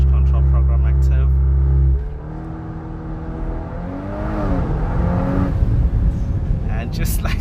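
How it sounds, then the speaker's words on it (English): A 2024 VW Golf 8 R launches hard under launch control: a steady held idle suddenly drops, then the engine note climbs in rising sweeps as the car accelerates, close and loud. "Apply the throttle. Launch control program active."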